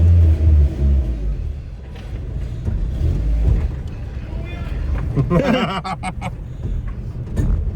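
A Suzuki Samurai with a swapped 1.6L 16V engine rumbles low and heavy as it drives off, with people talking close by over the engine noise.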